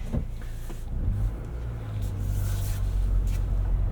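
A 2025 Ford Bronco Big Bend with a seven-speed manual idles with a steady low engine rumble, close and continuous, with no voices.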